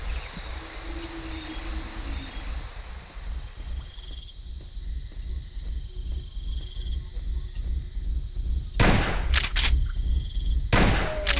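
Shotgun blasts in the Jurassic Park Hunter Legends video game: a few loud, broadband shots close together near the end, over a steady insect-like chirping ambience.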